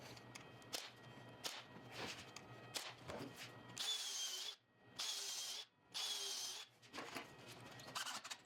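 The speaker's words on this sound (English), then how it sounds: "screw and nail these together" Power drill driving screws to join the panels of a large custom built-in cabinet, in repeated close bursts of whirring with short pauses between them and no talk.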